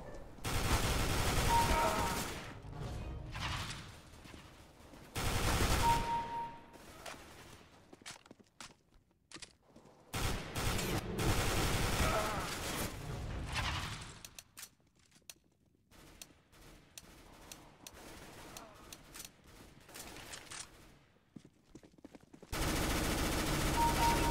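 Bursts of rapid automatic gunfire from the video game CS:GO, loud and repeated in several stretches separated by quieter gaps with softer clicks and footsteps, no talking over it.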